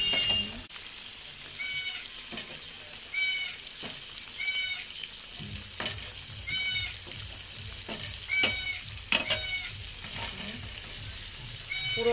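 Whole tilapia frying in hot oil in a home kitchen, a steady close sizzle with rhythmic bursts of crackling and spitting as the fish cooks, running continuously throughout.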